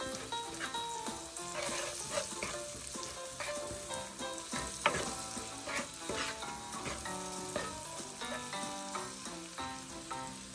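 Dungeness crab cooks in a pan with Cajun seasoning and paprika while being stirred, with a steady sizzle and frequent scraping, knocking stir strokes, moderately quiet and with no talk.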